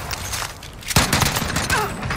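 Video game gunfire in a shooter match, a sharp close shot followed by a rapid burst of fainter cracks and rattling, with no talk over it.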